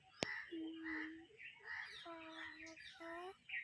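Bird-like calls, probably a voice imitating them, sound outdoors in the countryside near the Ramdara Shiva temple outside Pune: short tonal hoots and chirps repeated in a few bursts, fairly close, with a sharp click at the start.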